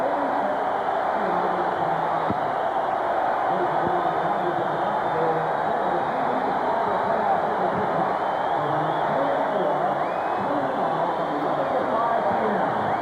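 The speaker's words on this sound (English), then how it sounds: "Now they get a chance to celebrate, as does the crowd, and we'll just let you enjoy it too." A hockey arena crowd roaring and cheering after the New York Islanders beat the Pittsburgh Penguins 7-5 in a Patrick Division Final game, a dense sustained wash of distant cheers and whoops with no announcer speaking.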